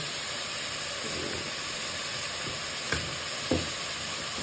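Food with sweet potato frying in a pan gives a steady, moderately quiet sizzling hiss, with a few light knocks of stirring near the end.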